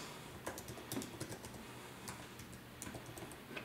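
Typing on an Apple Magic Keyboard paired with a MacBook: a quiet, irregular run of light key clicks over soft room noise.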